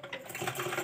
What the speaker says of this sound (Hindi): अब हम यहाँ एक फिनिशिंग वाली सिलाई लगा लेंगे।